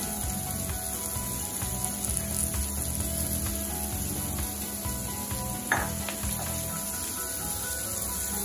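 Dried radish pieces stirred and fried in a pan for curry, a steady close sizzle running throughout with scraping stirring strokes and an occasional clink of a utensil, no talking.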